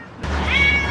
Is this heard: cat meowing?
yes